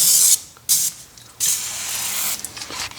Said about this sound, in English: I have a little bit of lubricating oil right now. I'm just going to spray.